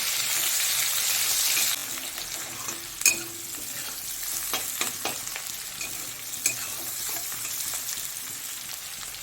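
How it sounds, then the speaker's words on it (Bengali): Steady crackling sizzle of onions frying in a pan, with scraping stirs and a few sharper clinks, no voices. "পেঁয়াজটা কালার চেঞ্জ হওয়া অবধি একটু ভালো করে ভেজে নেব"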